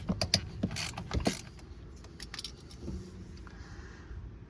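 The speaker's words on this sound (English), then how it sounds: "loosen it up with my ratchet and then finish it taking it out by hand" Loosening a spark plug with a hand ratchet on a Toyota 4.7L V8 2UZ-FE engine: several quick metallic clicks and clanks in the first second and a half, close and fairly loud, then quieter mechanical handling.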